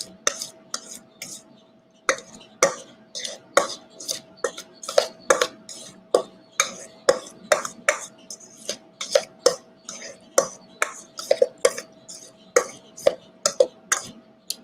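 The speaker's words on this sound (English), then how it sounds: "Just give it a nice stir. Everything incorporated together." Guacamole stirred in a bowl with a spoon or utensil, a steady series of close scraping clinks and soft wet mashing, repeated rhythmically about once per half second with faint background hum.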